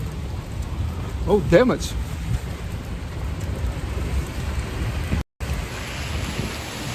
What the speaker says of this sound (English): Wow, the rain is getting bigger.